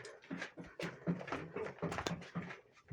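Dogs guarding a village sheep herd near Sazlıca, Niğde, make several close, repeated barks and whimpering yelps in irregular bursts over a few seconds, with no talk.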